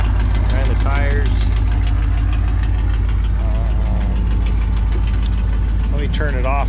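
A 1985 K5 Blazer truck's engine idles steadily and close, with a light knocking rhythm throughout, while a person talks over it in spots.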